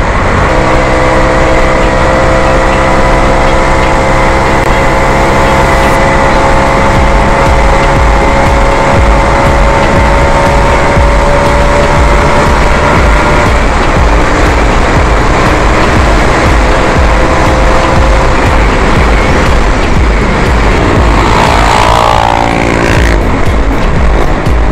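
A Rev Skyline X motorcycle engine drones loudly and continuously through a top speed run, its pitch held steady and then shifting near the end, with heavy wind buffeting over the close roar.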